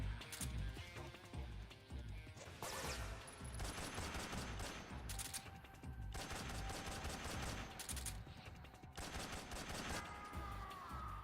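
Gunfire in Metal Gear Solid 3 rattles out in dense, loud bursts that repeat in quick volleys and pause only briefly between them. No one speaks.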